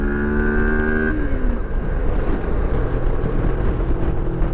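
A 2023 Moto Morini X-Cape adventure motorcycle accelerating hard at full power, a loud close engine roar that shifts pitch as it changes gear and then keeps building steadily, with wind rushing over it.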